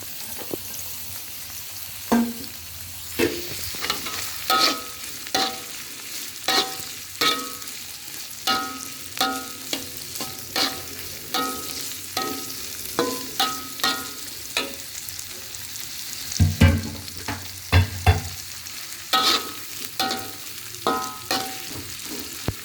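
Chillies frying in oil while being stirred in a pan, a steady sizzle with repeated scraping clicks of a spatula against the metal, close and moderately loud, no voices.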